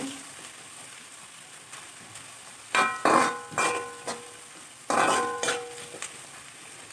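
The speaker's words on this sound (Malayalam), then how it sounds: "എണ്ണയൊക്കെ പിടിച്ച് നെത്തോലി നല്ല ഫ്രൈയായിട്ട് ഇരിപ്പുണ്ട്" Anchovies (nethili) fry in hot oil, a steady faint sizzle broken by bursts of louder crackling and spattering, with scraping stirs of a pan.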